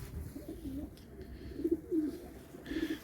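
Pigeons cooing in a loft, low soft rounded coos repeating in a few bursts close by over a faint background hum.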